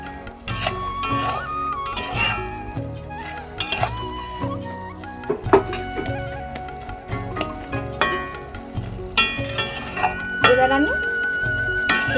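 Boondi being stirred in sugar syrup in a pan, with repeated clinking and scraping of a metal spoon against the pan in irregular bursts, close and fairly loud.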